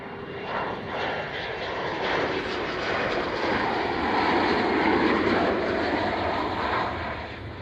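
A military aircraft doing a touch and go at RAF Coningsby makes a rising, swelling engine roar that builds toward the middle and eases off, with faint radio talk underneath.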